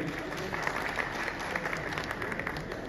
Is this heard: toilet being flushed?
no